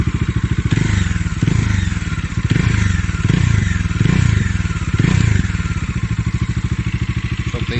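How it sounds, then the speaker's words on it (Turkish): A Bajaj Dominar 400 motorcycle engine idles and revs several times through a loud, throaty dual-outlet open exhaust, close up, with a steady rumbling pulse between blips. "ekstradan alınmış bir açık egzoz varmış gibi bir sesi var"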